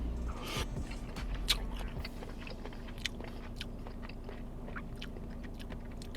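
Someone chewing oily takeout shrimp fried rice, soft close-up mastication with faint crunches and wet mouth clicks, quiet and steady against a low hum, no speech.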